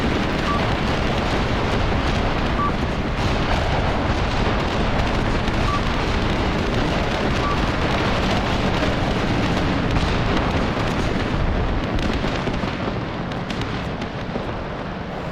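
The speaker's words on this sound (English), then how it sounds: "That's a bombing strike." An incendiary bombing strike in Graviteam Tactics: Mius Front rolls on as a continuous, dense rumble of explosions and roaring blast noise, loud and unbroken for about fifteen seconds before easing slightly at the end.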